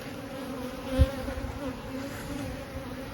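Honeybees buzzing around an open hive during an inspection of brood frames, a dense, steady hum of many wings close by with one brief thump, and no voices.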